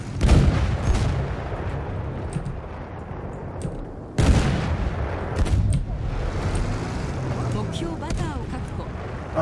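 Gunfire in Battlefield 1 squad play: heavy booming shots and explosive blasts, two especially loud bursts followed by rolling rumble and scattered cracks, with players talking over the action.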